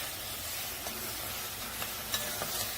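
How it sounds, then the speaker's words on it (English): Vegetables, onions among them, frying in a pan on a home stove, giving a steady soft sizzle with faint stirring clicks throughout, fairly quiet and alone. "now we are getting color on our vegetables"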